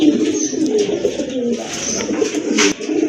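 A Dobas pigeon for sale coos repeatedly, close and clear, in soft rolling phrases over a low murmur of background noise.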